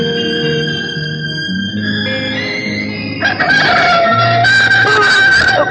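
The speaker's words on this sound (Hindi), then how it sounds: "मुर्गे ने बांग दे दी।" A rooster crows loudly and close in a 1979 Indian film, a long drawn-out call, with clucking fowl and other birds joining in the background.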